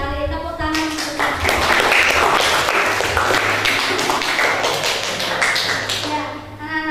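Students applauding together in a classroom, a dense run of clapping that starts after a brief voice and continues steadily for several seconds before fading at the end.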